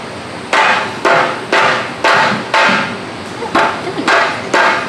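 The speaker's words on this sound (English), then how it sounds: "You're probably gonna need a hammer." Hammer blows on a Honda exhaust being removed, about eight heavy metallic strikes in a steady rhythm roughly half a second apart, loud and close, each ringing briefly before the next.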